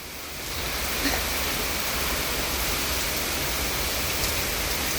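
Heavy rain falls outside during urban flooding, a dense, steady roar of broadband noise that holds constant throughout, close and loud with no talk.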